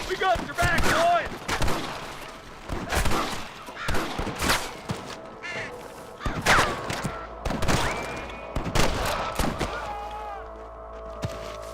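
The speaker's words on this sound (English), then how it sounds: "I can hear more gunshots." Bursts of gunfire in the video game Red Dead Redemption crack repeatedly over a busy game soundscape, several shots in quick clusters mixed with shouting voices.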